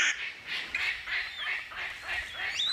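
Palm cockatoo calling in Australian rainforest: a series of about six harsh, raspy calls in a steady rhythm, fairly close and clear over quiet background with no talk.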